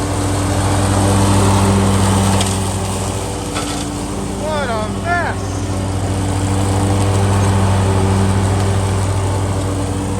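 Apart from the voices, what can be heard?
lawn mower mowing leaves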